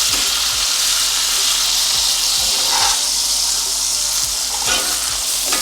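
Steaks sizzle and fry steadily in a hot pan for creamy steak ramen, a continuous loud hiss with a few brief clinks and scrapes of handling.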